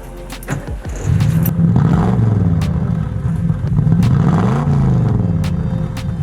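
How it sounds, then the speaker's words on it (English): A 1973 Holden HQ Monaro V8 engine idles and revs in a steady, deep throbbing rumble close by through a dual exhaust, rising and falling a few times with no talk. "It's got a typical Holden V8 sound."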